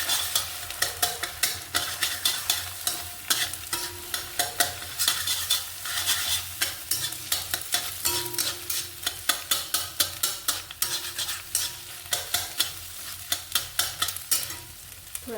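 Egg mixed into potato bhaji being stir-fried in a pan, a sizzling bed under repeated rhythmic scrapes and taps of a spatula against the pan, steady and close.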